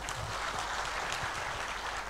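Applause from a conference audience fills the room as a steady, dense wash of clapping, unbroken and even in loudness from start to finish.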